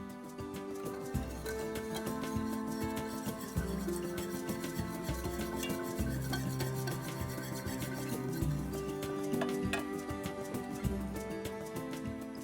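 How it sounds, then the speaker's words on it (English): A sticky peanut butter and chocolate tart mixture being stirred steadily in a bowl, a soft continuous rubbing and scraping with slight rhythmic pulses, close and fairly quiet. "Mix everything together until well combined."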